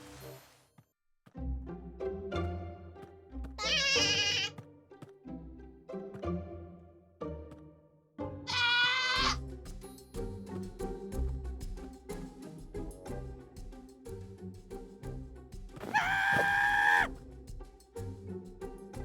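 Screaming goats in Minecraft: three piercing, high-pitched bleating screams, several seconds apart, over a background of plucked, tinkling game music.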